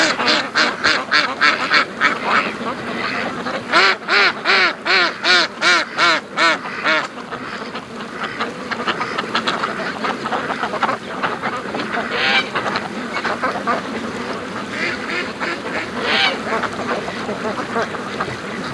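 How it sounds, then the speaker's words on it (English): A Muscovy duck and brant geese call on a creek partly blocked by thin ice. A rapid run of loud honks leads into steady, overlapping honking and quacking from a nearby flock. "there's a Muscovy coming back around."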